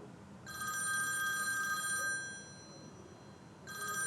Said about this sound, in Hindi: तानिया की कॉल आ रही है